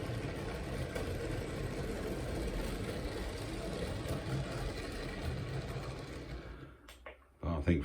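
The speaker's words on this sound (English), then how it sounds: "most of that noise, well, if not all of it, is just the light coaches and the metal wheels on the track" A model Thalys high-speed train's light coaches roll on metal wheels along the track, making a steady close rattle and rumble that drops away abruptly near the end.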